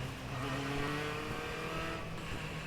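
Ford race cars weave behind the pace car at Summit Point to warm their tires, and their engines make a faint, continuous drone with a rising and falling whine as they roll past.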